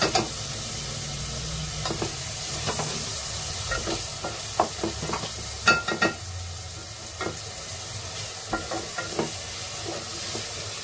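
A ground paste of roasted onion and coconut fries with softened cooked onion in a pan. A steady, moderate sizzle runs throughout, broken by repeated sharp clicks and scrapes of a spoon stirring. No voices are heard.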